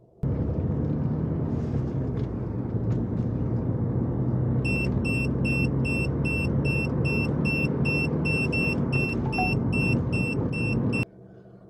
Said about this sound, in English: the speed alarm will now only sound an audible alarm for you only